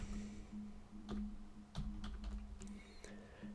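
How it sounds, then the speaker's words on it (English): Code being typed on a computer keyboard, a quiet run of crisp, irregular keystrokes close by, with a steady low hum beneath. "I'm gonna to type here again console write"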